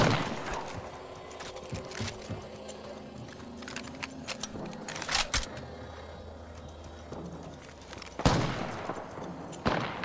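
Gunfire in the Apex Legends video game crackles in scattered bursts and single sharp shots, some close and loud, others fainter, over a busy background of game sounds with no talk.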